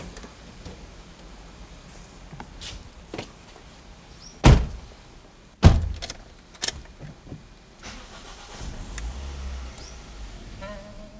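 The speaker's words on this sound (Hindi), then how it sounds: "किसी ने गाड़ी स्टार्ट की थी?" A car door thumps shut twice with keys jingling around them, then a car engine starts with a low rumble and settles into a quiet idle.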